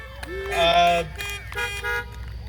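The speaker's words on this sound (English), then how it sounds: "I love being honked at" Several short horn toots sound in quick succession, bright and fairly close, with varying pitches and brief gaps between blasts.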